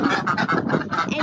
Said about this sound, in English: So what kind of animals do we have in here? We have ducks.